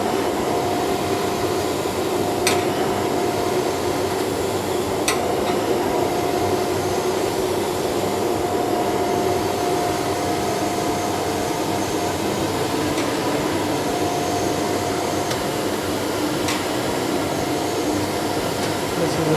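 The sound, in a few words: 1.5 HP blower motor running with suction on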